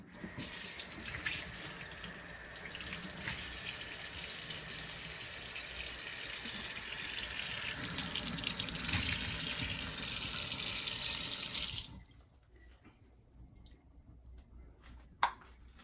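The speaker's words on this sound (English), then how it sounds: "next we need to rinse our raspberries or whichever fruit you're gonna use in your ice cream today" Raspberries rinsed under a running kitchen tap: a steady, fairly close rush of water for about twelve seconds, then the flow stops, leaving faint drips and a single small knock.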